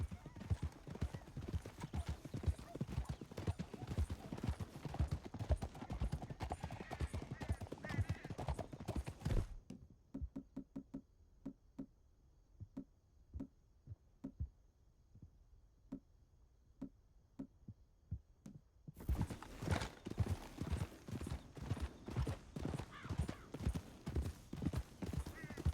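Horse hooves clip-clopping in Red Dead Redemption 2, a brisk, steady rhythm of hoofbeats that drops to sparse, quiet ticks midway before the full-paced galloping returns.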